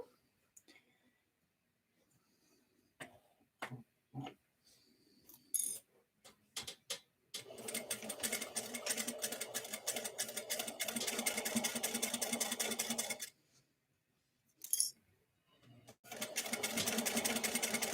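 A sewing machine stitches a number 3 zipper onto a Boardwalk bucket bag. A few light clicks and taps come first, then a loud, fast, even whirring run of about six seconds, a short pause, and another run starting.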